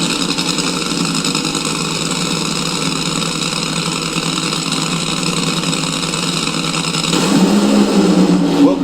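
Funny car drag racing engines roaring at Pomona during the Lucas Oil Nationals semifinals, a steady loud blaring roar that swells louder near the end.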